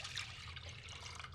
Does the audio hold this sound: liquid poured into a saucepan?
yes